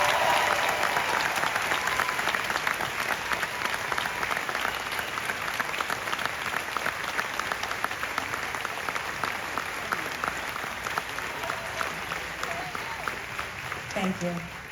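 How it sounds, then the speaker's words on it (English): A large crowd at EPCOT's 40th anniversary applauds the park's cast members, sustained dense clapping that stays loud and steady throughout, with faint voices underneath toward the end. "Please join me in a round of applause for these very special cast members"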